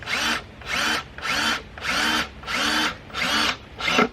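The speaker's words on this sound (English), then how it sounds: "I'm using power tools" A power drill whirs in six short bursts, each about half a second long with brief pauses between, close and loud.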